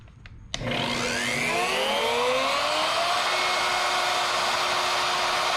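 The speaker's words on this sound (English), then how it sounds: "I'm going to just take the shop vac and I'm going to suck the sawdust out" Shop vac sucking sawdust out of a carved pecky cypress log, switching on sharply and winding up to a steady loud whine with a whooshing rush of air, close by and alone.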